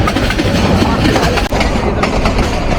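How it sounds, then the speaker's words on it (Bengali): Jamalpur Express rolling into Mymensingh railway junction, a loud, steady rumble of wagons with rhythmic wheel clatter throughout and a brief dip midway. "জামালপুর এক্সপ্রেস প্রবেশ করছে ময়মনসিংহ রেলওয়ে জাংশনে"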